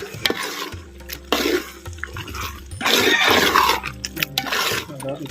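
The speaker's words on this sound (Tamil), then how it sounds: "அப்படியே நல்லா கிண்டி விடணும்" Coconut masala being stirred into mutton gravy in a pot, a wet scraping churn with spoon-on-metal clatter, loud and close, continuing for several seconds with background noise.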